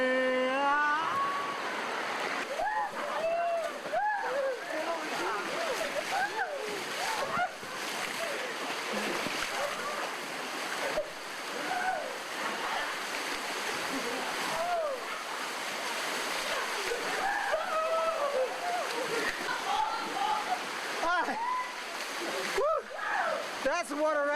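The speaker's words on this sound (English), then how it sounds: "That's water rafting." Water rushes and splashes steadily throughout a river rafting trip, with voices calling and chattering over the spray.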